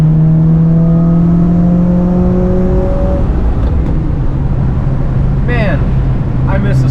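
Car engine droning steadily while driving on a back-country road, with a rising whine that fades and a loud continuous road roar; some brief sounds flicker over it late on.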